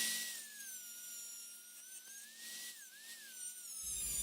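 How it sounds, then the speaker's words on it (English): High-pitched whine of a rotary tool cutting down a metal washer, a steady screech that wavers slightly in pitch as the load changes, close and continuous throughout. "We'll cut the washer down a little bit,"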